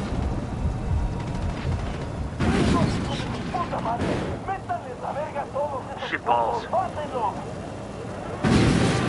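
In Ghost Recon Wildlands, a deep explosion booms loud and close, then a second blast hits near the end, with gunfire and game voices speaking between them.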